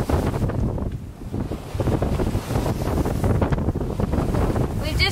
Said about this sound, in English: The winds were getting up over 25 knots now, and we're just bashing into it